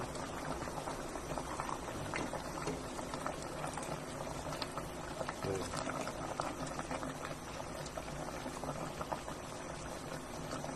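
Filipino nilaga, a pork soup, bubbles at a steady boil, a continuous gurgling patter of small bubbles, moderately faint, with no one talking.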